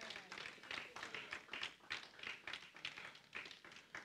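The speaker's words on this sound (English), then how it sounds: "Clap your hands for Jesus." A church congregation claps together during a Wednesday Bible study service, a steady stream of many overlapping claps at moderate volume that sounds a little distant.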